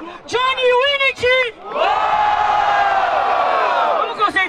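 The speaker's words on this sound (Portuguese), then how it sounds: "Eu tô percebendo que a galera tá gritando pras duas duplas." A crowd at a Brazilian freestyle rap battle yells and cheers in loud, sustained bursts, with raised shouts and whoops swelling into a long roar close by.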